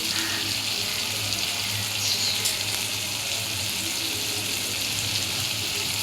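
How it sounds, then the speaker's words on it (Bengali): Water is poured into a pan of frying katla fish curry, making a steady, loud hissing sizzle mixed with splashing that continues throughout. "একটু আমি জল দিয়ে দিলাম"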